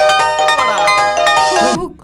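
A mobile phone rings with a loud, bright electronic ringtone, a bouncy melodic tune of warbling notes and short bursts that plays close and then cuts off abruptly at the end.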